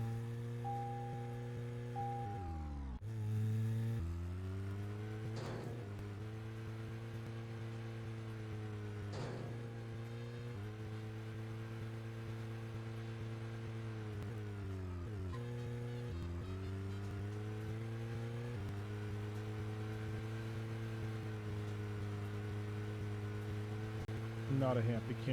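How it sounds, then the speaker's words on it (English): From the video game Deadly Premonition, a car engine hums low and steady the whole time, with rain falling as a soft wash behind it. A few short shifts in pitch break up the drone, and no one speaks. "It's the hum of the engine and the rain."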